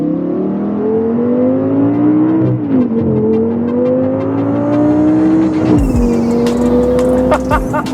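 A car is driven carefully on slick, greasy roads. The engine drones loud and close, its pitch climbing steadily, then drops with a gear change near the end.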